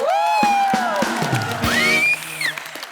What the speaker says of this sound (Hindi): और उर्वशी की मम्मी जी के लिए और जोरदार तालियां।